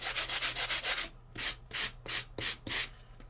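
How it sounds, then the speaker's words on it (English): Rhythmic back-and-forth strokes of a sanding tool rasp against an inked surface, quick and even at first, then slower with brief pauses between passes, close and fairly loud. "So I'm going to take my sanding tool"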